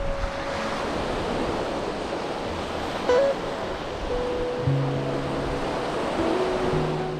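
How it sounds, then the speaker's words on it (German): Steady, loud rush of strong, icy wind roaring across the microphone without pause in Norway, with a few faint tones drifting underneath and no voices. "es geht ein ganz schön starker Wind"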